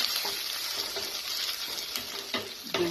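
Onion cooks gently in a pan, a steady low sizzle with occasional scraping clicks from stirring, close but not loud.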